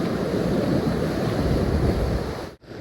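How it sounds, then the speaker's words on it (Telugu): Steady, dense rushing noise of heavy rain and surf at Calangute beach, Goa, roars continuously, broken by a brief muffled drop near the end. "వర్షం పడుతుంది."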